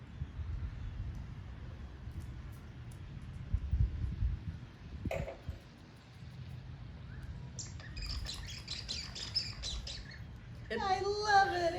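A bird-shaped wine aerator on a bottle gives off high, whistling chirps while wine pours, heard in short bursts near the end after quieter background rustle.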